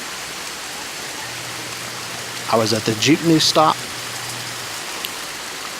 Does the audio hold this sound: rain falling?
yes